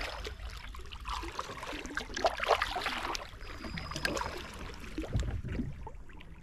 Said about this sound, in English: But this boat's paddling a lot better than I expected it to